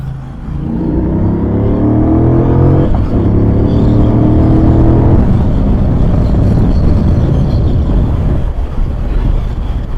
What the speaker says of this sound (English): this X-Pipe will just give me a little more rumble dumble